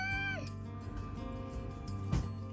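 A pet cat named Maggie lets out a short meow at the start, then the scene goes on as a quieter indoor room with a steady background hum, faint rustling and a brief bump near the end.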